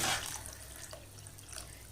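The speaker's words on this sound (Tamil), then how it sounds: "இப்போ இதில் இன்னும் கொஞ்சம் தண்ணி சேர்த்துக்கலாம்." Water poured into a simmering tamarind curry of bitter gourd, a short, close splashing and trickling wash with no voices.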